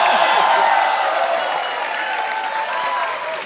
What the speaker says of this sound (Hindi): इसका सिर्फ तालियां।